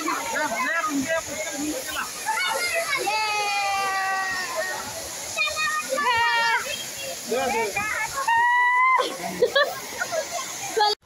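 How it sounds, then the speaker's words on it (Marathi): A busy crowd at Rautwadi waterfall, with excited children's and adults' voices overlapping throughout above a constant hiss of rushing water. "कारण इथं खूप गर्दी आणि पाण्याचा पण आवाज येतोय"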